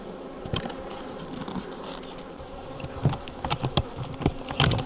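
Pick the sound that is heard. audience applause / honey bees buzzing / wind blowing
honey bees buzzing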